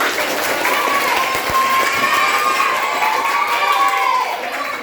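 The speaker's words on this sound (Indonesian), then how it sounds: "Tepuk tangan." A crowd of children in a classroom claps and cheers together, a steady lively burst of applause with shouting voices mixed in.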